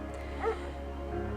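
A German shepherd in the video game Firewatch gives a brief, soft yip or whimper near the start, set against a steady low in-game ambient drone.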